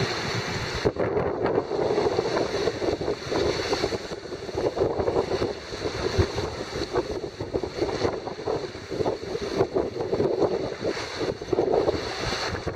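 A sailboat moving at about 8.3 knots gives a steady rush of water and wind noise against the hull and microphone, continuous and fairly loud, with no talking.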